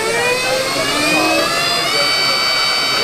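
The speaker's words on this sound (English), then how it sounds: "So then as we open the throttle" An engine holds at wide open throttle during a fuel pump test, a loud sustained roar with rising whine tones, steady for the whole stretch.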